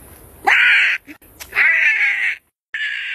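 A voice mimics an Australian bird with two loud, harsh, raspy squawks followed by a third starting at the end, each about half a second to a second long, separated by brief gaps.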